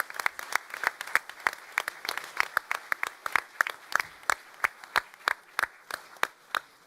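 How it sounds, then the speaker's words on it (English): Audience at a school district board meeting applauds, a steady run of sharp, distinct claps from a modest crowd lasting several seconds, fairly close and with no talk over it. "that deserves a round of applause"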